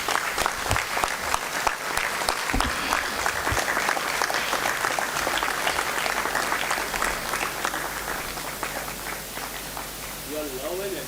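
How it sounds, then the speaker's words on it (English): Sustained audience applause fills a formal hall at the valedictory ceremony of a national moot court competition, steady dense clapping throughout with a brief voice near the end. "A round of applause, please."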